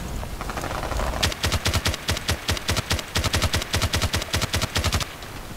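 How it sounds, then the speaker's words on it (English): Rapid, rhythmic bursts from the MG36/QBB-95 light machine gun in Battlefield Play4Free ring out close and loud, about twenty evenly spaced shots in a steady stream before stopping. "Now we're going to try close quarter tap firing and see how that works out."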